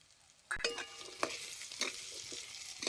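Green peas roasting in hot oil in a pan with turmeric: a steady frying sizzle with bursts of stirring and scraping, close and fairly loud, no talking.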